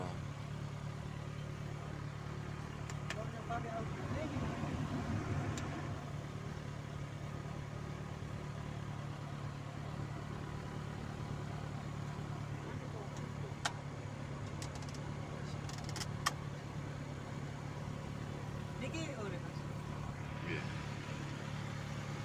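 A Peugeot 306 engine idles steadily with the air conditioning on, a low, constant rumble with a fan-like whir running alongside and a few faint clicks.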